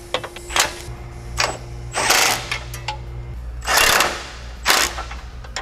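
Impact wrench lightly snugging bolts on a Z1 front subframe chassis brace, with several short broadband bursts over a steady low hum, fairly close and not under talk.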